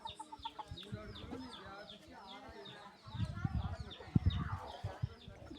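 A rooster clucks in a run of quick, repeated calls, fairly close, with low thumps and handling noise joining in partway through.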